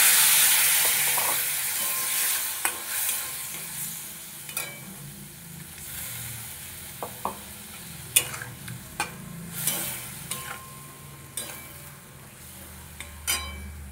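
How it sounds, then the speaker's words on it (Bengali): Coriander, cumin and Kashmiri chilli powder masala sautéing with a splash of water in a pan, a steady close sizzle broken by repeated sharp scrapes and clinks of a spatula stirring against the metal. "দিয়ে মশলাটা খুব ভালোভাবে কষাবো"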